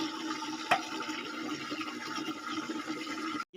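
Tap water runs continuously from a nearby outdoor faucet while potted plants, cactus and money plant, are watered, a steady rushing flow with one brief knock near the start before cutting off at the end.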